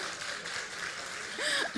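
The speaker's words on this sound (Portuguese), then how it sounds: "Palmas pro Gordo, palmas pro Gordo." Audience applause for a guest nicknamed Gordo during a casual talk show, a steady wash of clapping with a few chuckles and a voice cutting in near the end.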